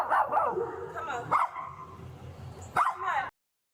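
Dogs bark and yip in short bursts, three loud clusters of barks close by with whimpering between them, ending abruptly.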